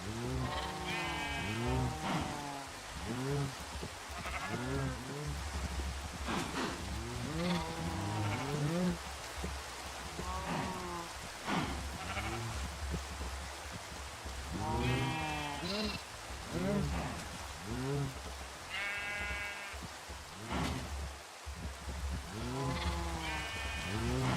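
Sheep bleat repeatedly, several animals calling over one another in wavering cries, close by, with a low outdoor background hum throughout.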